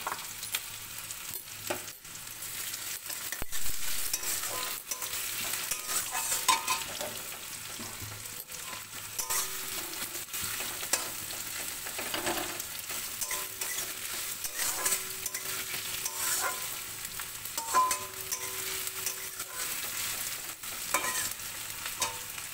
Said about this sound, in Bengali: আর এর মধ্যে আমি পেঁয়াজ ফোড়ন দিয়েছি